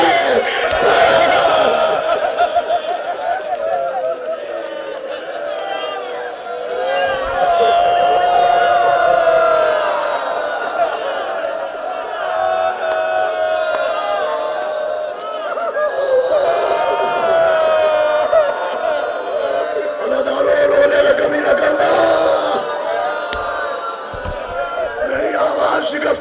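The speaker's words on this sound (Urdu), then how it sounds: "تم نے نعرے لگا دیے، سبحان اللہ کہہ دیا" A majlis audience at Rauza-e-Kazmain in Lucknow calls out slogans and praise together during a religious sermon, a sustained crowd of voices with swelling rises throughout, close and loud.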